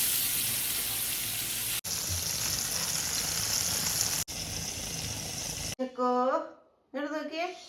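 Fish coated with chilli powder, pepper and salt fries in a pan with a loud, steady sizzling hiss up close, briefly broken twice. A voice then speaks over a quieter background.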